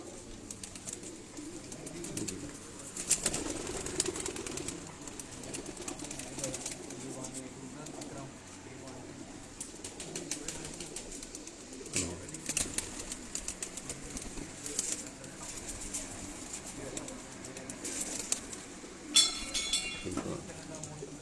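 Pigeons on a rooftop loft in Sialkot coo softly in the background, low repeated calls under steady talk from people nearby, with an occasional clink.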